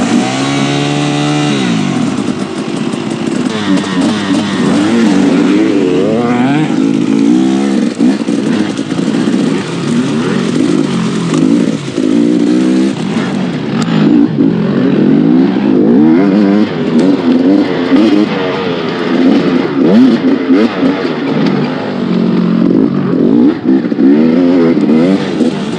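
A dirt bike engine drones loud and close on a muddy track, ridden slowly, with the revs rising and falling in long sweeps and continuing for nearly half a minute.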